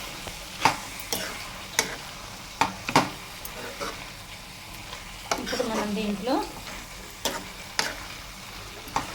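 Amaranth leaves and stalks simmer with a little added water in a pan, stirred with repeated utensil taps and scrapes plus a soft bubbling sizzle, while a person talks briefly.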